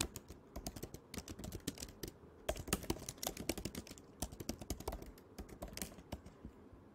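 Rapid, continuous typing on a computer keyboard while entering a proposal description, with dense clicky keystrokes in irregular bursts and short pauses, close and steady, with no voices.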